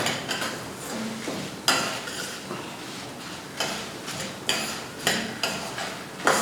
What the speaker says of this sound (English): So keep stirring so that it won't burn.